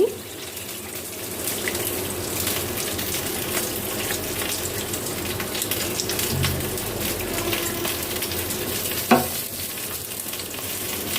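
Water is poured into a cooking pot on a stove during preparation of a fish and eggplant curry, a steady close running-water wash with a brief clatter near the end, no talk.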